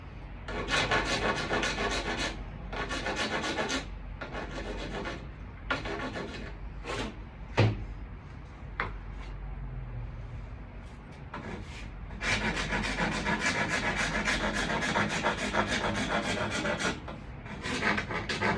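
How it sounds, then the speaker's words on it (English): Sandpaper scrubs back and forth along the side of a splitboard to take off excess epoxy, a loud, steady rasping in long strokes with brief pauses in between, close up. "I'm going to go ahead and sand down really the whole side here."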